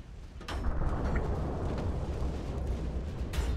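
A torpedo striking a ship in Ultimate Admiral: Dreadnoughts lands as a deep, rumbling explosion that hits after a half-second and rolls on in a heavy, sustained low roar.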